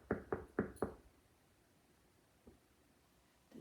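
Four quick knocks on a castle door, close and fairly loud in an even rhythm, followed by a long quiet pause and a couple of faint taps.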